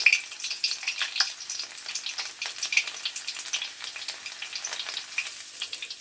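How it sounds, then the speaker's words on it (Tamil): Sliced garlic frying in hot oil, with a steady bright crackling sizzle and dense spitting pops running continuously at close range, with no voices. "அதையும் நான் கொஞ்சம் கலகலாண்டு பொரிச்செடுத்து அதோட சேர்க்க போகிறேன்"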